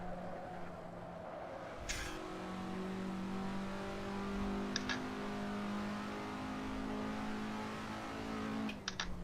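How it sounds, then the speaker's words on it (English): A race car in a racing simulator holds a steady engine drone, its pitch shifting as it revs through a downshift, with a few brief sharp clicks on top. "My downshift to second is just rev mash to try not to decelerate at all."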